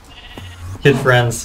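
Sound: sheep bleating in the video game Minecraft

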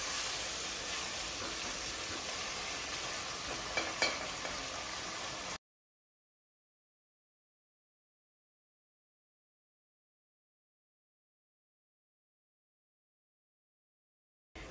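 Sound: chicken keema frying in a pan

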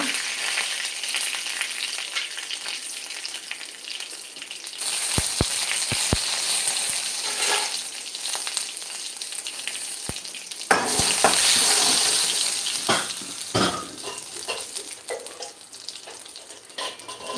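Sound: mustard seeds and curry leaves sizzling in hot oil

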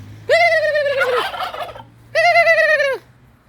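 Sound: turkeys gobbling

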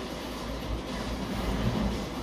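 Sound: train passing in the video game Forza Horizon 3

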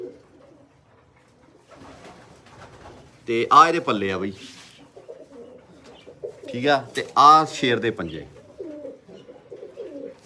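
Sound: pigeons cooing

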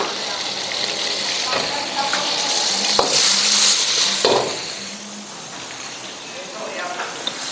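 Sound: garlic and onion being stir-fried with egg

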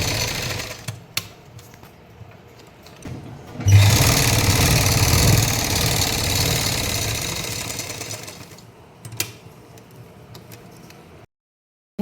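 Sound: sewing machine stitching a pocket onto a salwar

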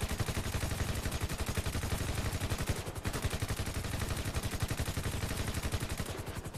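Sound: gunfire from a gun in video game Grand Theft Auto V

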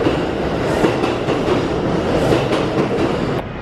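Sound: subway train riding on rails

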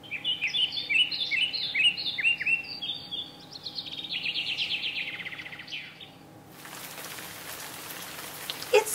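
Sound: rain falling

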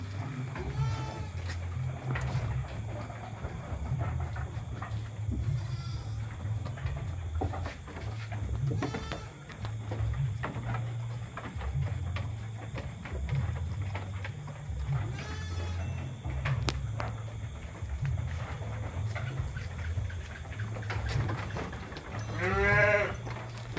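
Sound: Dorper crossbreed sheep bleating in pen

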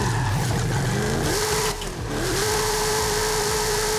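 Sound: sports car engine accelerating from start

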